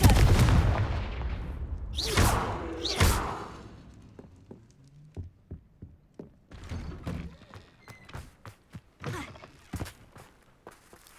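A Confringo fire spell blasting in the Hogwarts Legacy video game, a loud booming burst with a rumbling decay at the start, followed by fainter thuds and scattered impact knocks.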